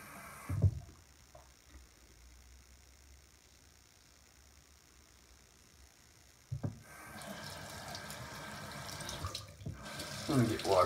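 Water running from a sink tap while washing up after a straight-razor shave, faint and steady at first, then louder splashing and rinsing toward the end, with a low engine-like hum underneath.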